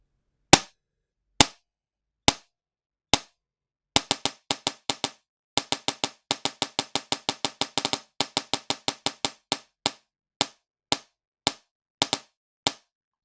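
A G&G ARP9 DSG airsoft gun dry fires in sharp, close mechanical clacks, a few single shots at first and then quick bursts of rapid, evenly spaced clicks against silence.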